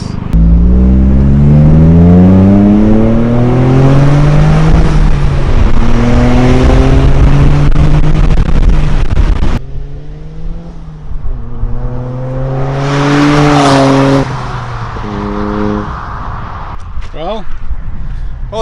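Toyota GR Corolla with an MBRP dual center exit exhaust accelerating hard through repeated gear shifts, the raspy engine note climbing and dropping, then pulling away and fading, with people talking over it.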